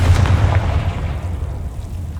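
Confringo fire spell in the video game Hogwarts Legacy, a loud low rumbling explosion that bursts at once and decays over about two seconds.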